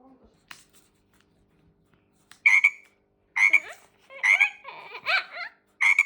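A frog croaks in short, loud bursts, several in quick succession after a quiet start, close to the listener.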